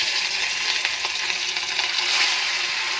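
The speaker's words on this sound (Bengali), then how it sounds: "আমি মাছগুলো ভেজে নেব।" Fish pieces fry in hot white oil in a wok, giving a steady, close, bright sizzle with faint crackles throughout.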